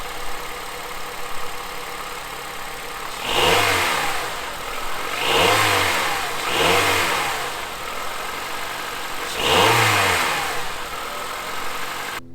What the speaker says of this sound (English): I'm going to go in and give it a couple of revs.